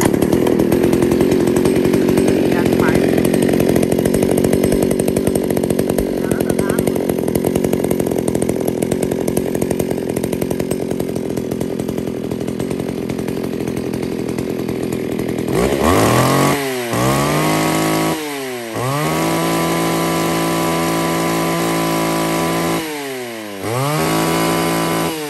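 An Echo 341 34cc Japanese chainsaw engine runs loud and steady, then revs up and down in repeated bursts, whining high and dropping back to idle.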